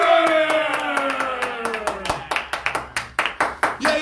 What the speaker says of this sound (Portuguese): salva de palmas para o especialista em oratória, Leandro Gulo